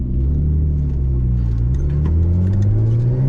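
Nissan Skyline drift car with a stock RB20 engine driving, a steady loud engine drone with rising pitch under acceleration, heard from inside the car on a backroad with no talking.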